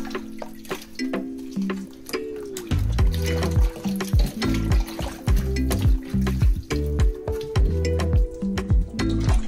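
Meat such as oxtail, cow feet and beef tripe is washed with vinegar and lemon under running tap water, which splashes and gurgles in a sink with intermittent pours and drips and no talking.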